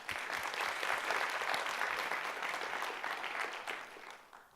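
An audience at the Hariri Symposium gives a round of applause, thick continuous clapping from many hands that swells early, then gradually thins and fades away.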